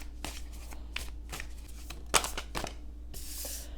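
Tarot cards being shuffled by hand in a series of soft riffling bursts with short pauses between them, quiet and close, over a low steady hum, with no talking.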